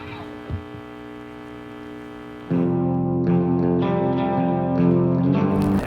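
Amp feedback, hum and noise ambience like a live band warming up before a shoegaze track: a faint buzzing drone gives way to a louder, sustained distorted hum with shifting overtones and scattered crackles, without talk.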